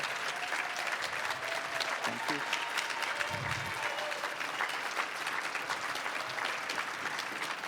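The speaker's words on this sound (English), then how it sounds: "A standing applause, please, for Clifford Stone and everybody who served in the military." Standing applause from an audience honoring military veterans, a thick wash of many hands clapping steadily, with a few faint voices and a brief low thump mixed in.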